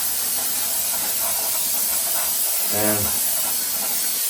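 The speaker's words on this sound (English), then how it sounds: "brake cleaner" Brake cleaner sprayed from an aerosol can onto car brake parts, a steady loud hiss running throughout with a short breathy burst near the end, close to the microphone.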